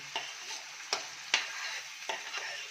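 Ground masala paste for masala sundal being sautéed in hot oil: a steady sizzle broken by several sharp scraping strokes of a spoon against the pan, close and unaccompanied by speech.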